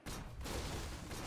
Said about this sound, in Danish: Det var ikke nok skud.